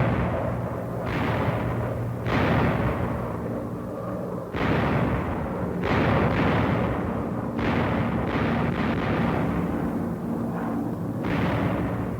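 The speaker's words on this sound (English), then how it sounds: "Here, the Japs learned about ParaFrag, fragmentation bombs dropped by parachute, lest they explode too soon beneath the low-flying planes." Parachute fragmentation bombs dropped from low-flying planes burst in a rapid series of loud, sharp blasts, roughly eight to ten explosions spread over the span, one after another on a rough wartime film soundtrack.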